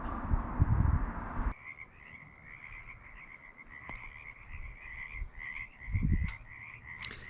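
Frogs in the Riffe Lake wildlife area croak in a steady chorus of rapid, repeated calls from a short distance, with a few louder nearby bursts and no talking.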